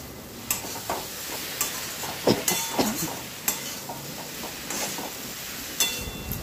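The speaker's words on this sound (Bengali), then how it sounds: "ভালো করে নেড়ে চেড়ে" Food being stirred in a cooking pan while making aloo posto: soft scraping and light clinks of a utensil against the pan, with occasional sharper knocks over a faint background hiss and no talking.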